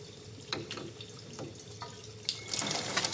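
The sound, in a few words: water flushing from backflow preventer test cock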